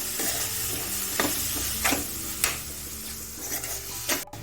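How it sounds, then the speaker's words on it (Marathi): Soaked dried prawns stirred and sizzling in hot oil for a Malvani sode masala, a steady close frying hiss broken by several sharp scraping stirs, with no talking. "आणि हे तेलात छान परतून घ्यायचे"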